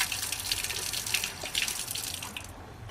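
A village fountain runs with water splashing steadily, moderately close and fairly soft, with faint outdoor background.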